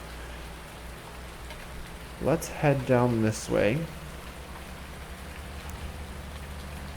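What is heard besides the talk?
rain in the video game Farming Simulator 19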